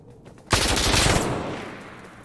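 A single fast burst of machine gun fire in Insurgency: Sandstorm starts abruptly and loud, rattles for about a second, then fades into an echoing tail.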